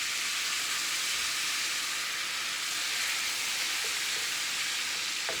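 Onions sauté in melted, bubbling butter, making a steady, fairly soft hiss and sizzle that continues evenly without any voices.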